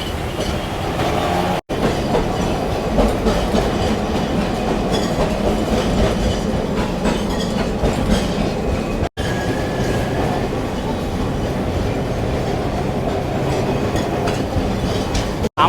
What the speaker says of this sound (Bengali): আমাদের ট্রামটা শ্যামবাজার থেকে ছেড়ে দিল